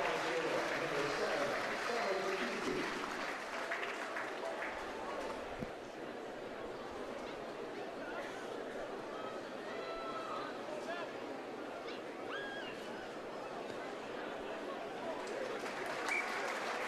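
A rugby crowd at Tadgley Park applauds a try by the Samoans, a broad, steady wash of clapping and crowd noise at moderate distance that carries on for the whole stretch, with a slight dip partway through.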